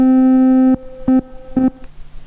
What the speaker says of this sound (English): just introduces some reverb.